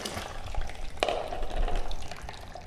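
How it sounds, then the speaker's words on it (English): Water pouring and splashing into a bucket, emptied from a CO2 fractional laser machine during a water change, a continuous rushing trickle with a brief clatter near the start. "Going to get the water into this bucket."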